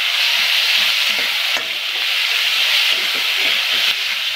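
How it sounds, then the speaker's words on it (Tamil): Tomatoes sautéing in a pan for potato kurma, a dense continuous sizzle with steady frying hiss throughout, close and fairly loud, no voices. "ஒரு ரெண்டு நிமிஷம் இதையும் நல்லா வதக்கிடுங்க."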